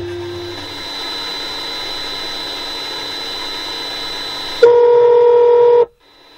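Phone call tones come through a car radio tuned to an FM station fed by a Bluetooth FM transmitter: a hissy, steady tone bed, then a louder sustained ring tone that cuts off abruptly into silence.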